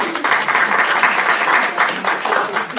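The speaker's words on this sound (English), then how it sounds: "Yes, that deserves a hand clap." Audience applause at a meeting, a steady wash of many hands clapping held at an even level for about three seconds, with no voices over it.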